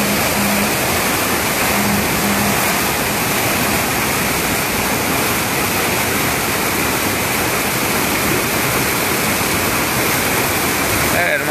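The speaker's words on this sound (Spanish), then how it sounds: "Mira cómo sube el agua." Floodwater rushing and rising through a neighborhood street, a loud, continuous roaring wash of water that fills the whole scene without a break.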